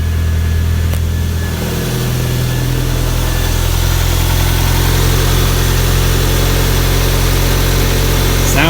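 A 1991 Toyota MR2 Turbo sits idling, its engine holding a loud, steady, even hum with a slight settling of the tone near the start and no voices.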